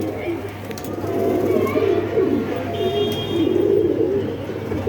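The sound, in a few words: pigeon cooing while held in hand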